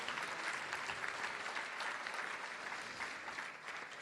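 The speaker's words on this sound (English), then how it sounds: "Give them another round of applause." Crowd at a Champ Camp awards event applauding, a steady wash of many hands clapping, fairly faint and distant, gently fading near the end with no talk.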